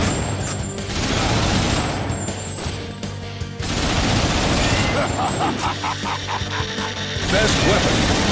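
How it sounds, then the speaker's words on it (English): Machine gun fire in the arcade shooter Time Crisis 4: dense, rapid mechanical rattling bursts with metallic clatter, two long sustained volleys separated by a brief gap, loud and close, with faint game voice callouts mixed in. "Machine gun."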